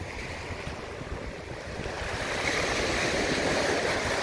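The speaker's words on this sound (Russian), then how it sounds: "Волны не очень сильные." Steady wash of Black Sea waves breaking on the shore at Lazarevskoye, Sochi, a continuous broadband rush that swells slightly louder partway through, with strong wind mixed in and no voices.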